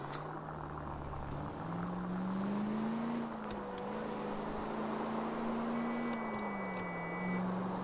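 A continuous video-game car engine hum that slowly rises and falls in pitch, with faint beeps and tones layered above, steady throughout.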